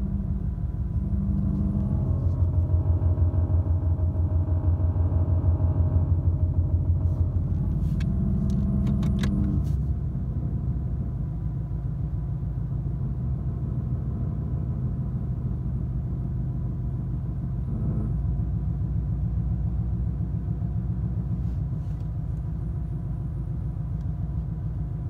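Low, loud engine rumble from a 2017 Ford Mustang 5.0 with a strange noise coming from underneath, a steady deep drone that swells heavier in the first ten seconds, then settles into a constant idle-like growl with no talking.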